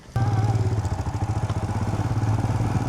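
A motorcycle engine runs steadily at a fuel stop on a Ladakh bike trip, its rhythmic low thumping close and loud after a sudden start, with faint mechanical clatter.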